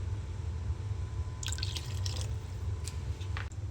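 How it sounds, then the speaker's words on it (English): A splash of white vinegar is poured into a pot of cooking black beans, heard as a short run of soft liquid drips and trickles over a low steady kitchen hum. "at this point, I'm also adding a splash of white vinegar."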